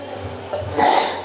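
A single sneeze from a person during a religious class, a brief breathy burst rising near the end of the moment over a soft room background.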